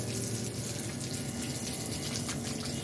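Steady running water splashes and trickles as a child plays with it while plants are watered, a continuous close tap-like flow with no speech.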